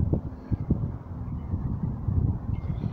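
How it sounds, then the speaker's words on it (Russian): Wind blows through an outdoor courtyard at Gatchina near Saint Petersburg, a steady low buffeting rumble across the microphone with gusty swells and no voices. "Ветерок начался."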